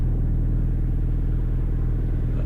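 A Porsche Carrera GT engine idles in Car Mechanic 2018, giving a steady, loud, low rumble that holds an even pulse throughout with no revving.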